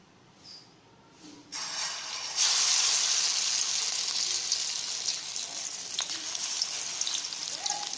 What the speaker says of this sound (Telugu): మనం ముందుగా మ్యారినేట్ చేసుకున్న ఫిష్ పీసెస్ని తీసుకొని ఇలా ఒక్కొక్కటిగా తీసుకొని ఆయిల్లో వేసి డీప్ ఫ్రై చేయాలి